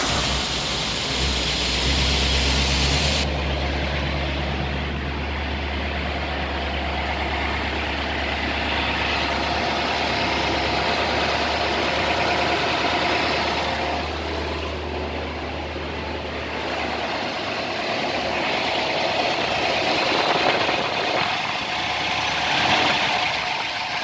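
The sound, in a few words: 1955 Ford Thunderbird engine starting and idling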